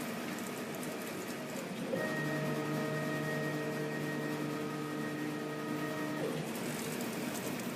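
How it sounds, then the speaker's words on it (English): A laser cutter running a test trace over fabric, a steady mechanical whir with a sustained tonal motor hum rising for several seconds as the head moves, then fading back to a low background drone. "I'm going to press test, because that will show me where the laser will end up cutting."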